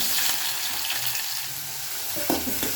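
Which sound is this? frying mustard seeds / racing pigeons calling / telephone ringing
frying mustard seeds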